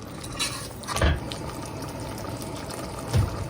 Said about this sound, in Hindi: अब इसमें मैं 1 कप पानी डालूँगी